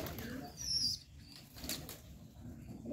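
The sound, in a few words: pigeon flapping its wings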